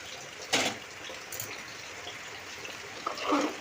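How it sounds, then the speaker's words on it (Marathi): Hot water is poured onto roasted rice in a hot pot, making a brief splashing gush followed by a low, steady hiss and bubbling, with another short surge of liquid toward the end. "बघा इथे पाणी उठते लगेच उकळी फुटते गरम पाणी टाकल्यानंतर"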